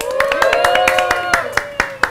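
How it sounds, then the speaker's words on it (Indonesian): A small group of people clap their hands in a quick, rhythmic beat, with crisp claps recurring about every fifth of a second, over sustained tonal voices or music, before a few last isolated claps. "Woi, tepuk tangan dong."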